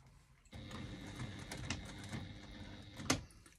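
A sewing machine stitches across a bag strap connector at a quiet distance, a soft whirring mechanical run with small irregular clicks and a sharper knock near the end.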